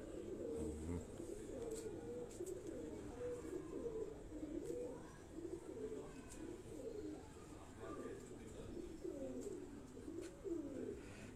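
A crested pigeon coos steadily in a loft, a repeated low rolling call running throughout over faint background noise.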